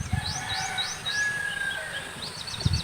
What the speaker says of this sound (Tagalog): Ang sarap pakinggan ng mga huni ng ibon sa lugar na to.